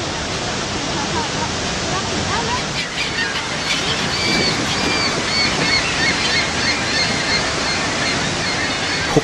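Dense, steady roar of heavily falling water at Niagara Falls, heard from a boat on the American side, loud and continuous with no breaks, like standing close to a big waterfall.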